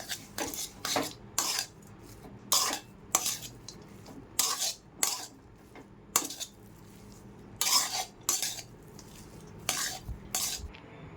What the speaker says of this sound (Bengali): এবার শিলে বাটা মশলাটা দিয়ে ভালো করে মিশিয়ে নামিয়ে নেব।